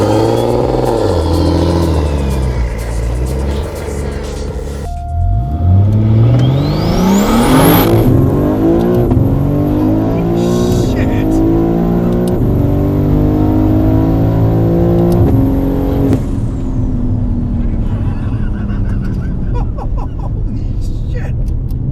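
A tuned BMW G80 M3 with 866 whp on a stock engine pulls hard from 60 to 130 on an airstrip runway, loud and close, climbing steadily through several rapid upshifts before easing off at the end.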